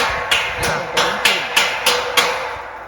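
Steady hammer blows on porch construction work, about eight evenly spaced sharp strikes in quick succession, close and fairly loud with no talk over them.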